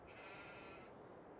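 Sheep bleat in Farming Simulator 22, a sustained nasal cry heard near and fairly loud that breaks off partway through, leaving a steady low ambient hum underneath.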